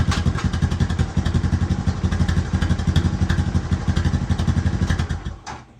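A Honda Recon TRX250TM ATV engine runs steadily after a clutch replacement, a loud close mechanical chug with rapid rhythmic pulses that holds for several seconds before cutting off near the end.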